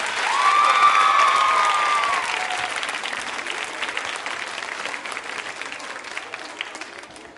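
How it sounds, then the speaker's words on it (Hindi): A large crowd applauds loudly, with a few cheers rising early, then the clapping slowly thins and fades over several seconds. "तालियां तो बजते ही रहनी चाहिए"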